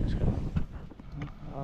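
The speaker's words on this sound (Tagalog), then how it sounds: "napakalakas ng hangin" Very strong wind roars and buffets a microphone outdoors, a steady low rumble with gusts, while voices talk over it.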